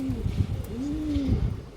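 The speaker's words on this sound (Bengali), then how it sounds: "নীলা কাজ করা নর কবুতর, পুরান জাতের কবুতর" An old-breed male blue pigeon coos near the microphone, giving low throaty rolls and two drawn-out gliding tones.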